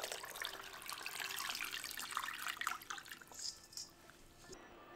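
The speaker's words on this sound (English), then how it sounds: "Add them to a pot and cover with water." Water pours steadily into a pot of rinsed dried bamboo shoots for a Vietnamese soup, a close, continuous splashing rush that thins toward a lighter trickle and drips near the end.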